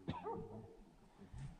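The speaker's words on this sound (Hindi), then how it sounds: "हमारे जो बाहर जो भोटिया कुत्ते होते हैं, ये देखो ये भौंक रहा है, ये साउंड सुनिए आप" Bhotia dogs bark outside tents on a winter night on the way to the Kedarkantha summit, with one bark followed by a low whine and a second short bark, fairly faint and distant.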